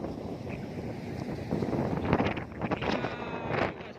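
Strong storm wind sweeps across an outdoor isabgul threshing site, a steady rushing roar that swells into buffeting gusts against the microphone.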